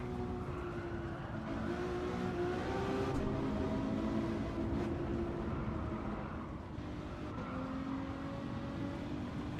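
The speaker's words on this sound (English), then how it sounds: "delays the engine sound and the gear change" Race car engine in the Gran Turismo 7 video game, a quiet, steady droning tone with slight pitch shifts that suggest gear changes, heard alone with no talk.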